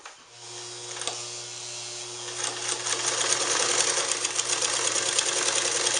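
A General sewing machine, Japanese-made, runs fast at high speed, its steady whirring drone building slightly louder partway through and holding close and continuous without talk.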